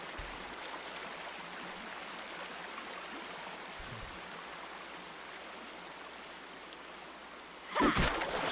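Steady rushing river water from The Walking Dead Telltale game, season 4, a continuous broadband flow holding even throughout, with a brief louder splash or thump near the end.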